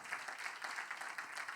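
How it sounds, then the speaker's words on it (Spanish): An audience at a university graduation celebration in a church applauds six graduating students, a quick burst of moderately loud, dense clapping. "Un aplauso para ellos."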